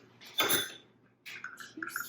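A small teaspoon from a charity shop is picked up and handled, giving a brief, bright clatter of metal near the microphone, followed by softer clinks and rustling.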